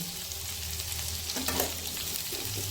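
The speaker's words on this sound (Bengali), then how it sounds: "এখন এটা সবজিটাকে ভেজে নেব" Carrot, capsicum, beans and garlic sizzling in a pan, a steady hot frying hiss with a brief stir partway through, no voices.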